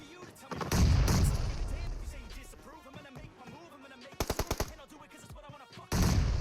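Grenade blasts and gunfire in the battle game PUBG Mobile, a heavy explosion followed by a rapid burst of shots and another sharp blast, with players talking over the action.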